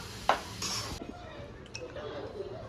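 Grated carrots for gajar halwa are stirred in a pan with sharp clinks and scrapes of a utensil against metal over a faint sizzle, and a voice is briefly heard.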